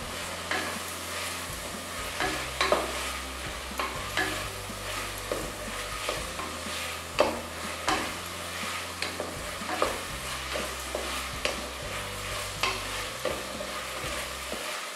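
Carrots sizzle and are stirred in a pan for a vegetable white brinji rice, the spoon scraping in regular strokes over a constant close frying hiss, with no voices.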